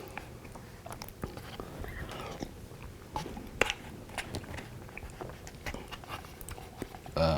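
Someone eats brisket chili, soft chewing and biting sounds repeating close to the microphone over a low steady background, with one sharper crunch partway through.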